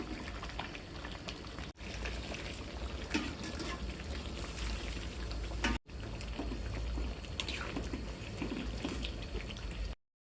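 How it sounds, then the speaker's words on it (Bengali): Hot water poured over browned, spice-fried meat in a pot, a steady loud watery pour and bubbling that runs almost continuously with two brief breaks. "মাংসটা কষিয়ে নিলাম এখন গরম জল দিয়েছি"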